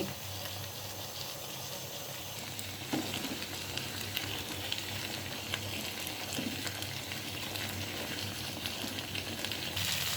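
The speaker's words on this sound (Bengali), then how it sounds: "আজকের সন্ধ্যার নাস্তাটা আমি বুট বাগারই দিচ্ছি" Boiled chickpeas (boot) are tempered in a pan with a quiet, steady sizzle and occasional soft stirring scrapes, heard alone without talk.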